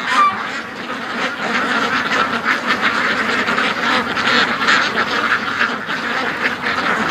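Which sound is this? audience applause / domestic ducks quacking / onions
domestic ducks quacking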